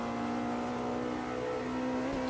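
A race car engine in the racing game Automobilista 2 drones at a steady high pitch with a constant, tonal whine, holding near-even revs throughout with a brief dip and lift near the end.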